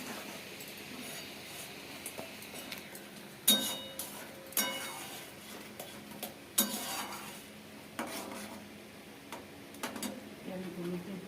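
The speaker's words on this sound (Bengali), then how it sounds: "এবার এগুলো দিয়ে ভালো করে কষাবো।" Spices such as cumin and dried red chilli powder are stirred and sautéed in a pan for katla fish kalia, with quiet, sporadic clinks and scrapes of a spoon against metal at irregular intervals.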